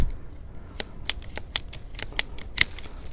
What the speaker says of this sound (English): Beautiful cuts. I love this ratcheting pruner.